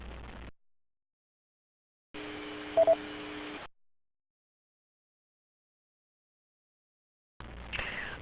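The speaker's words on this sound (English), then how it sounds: "It's telling you there's text message." An EchoLink text-message notification sounds as a quick pair of short electronic beeps inside a brief burst of radio hiss, with silent gaps before and after and another static burst at the end.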